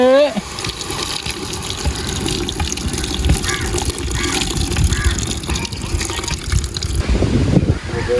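Tamarind water pours and splashes steadily into a container, a continuous gushing sound, with a voice heard briefly near the start and end.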